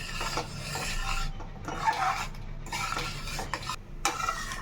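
A spoon stirring sugar into a thick coconut burfi mixture in a pan, rhythmic scraping and rubbing strokes with a faint sizzle beneath, close and repeated, without any talk.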